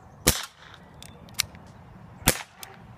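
Sharp snapping shots from a Black Ops Exterminator toy blaster, two strong pops and a couple of fainter ones, with no one talking.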